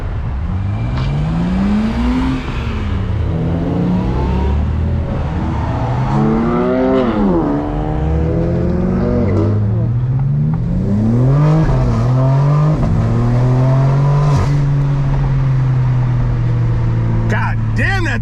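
A BMW M4 Competition fitted with an AWE SwitchPath exhaust and downpipes revs and accelerates loudly up close, its engine note climbing and falling through gear changes before settling into a sustained drone.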